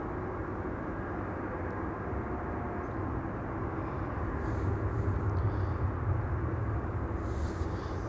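A KLM Embraer 175 coming in to land on runway 27 at Amsterdam Schiphol, a steady low jet roar that swells slightly toward the end, fairly distant and continuous with no voices.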